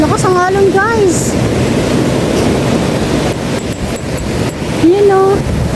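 Heavy ocean waves break continuously at a Baler, Aurora surf spot, a dense roaring wash with wind buffeting the microphone, while short voiced sounds rise above it at the beginning and again near the end.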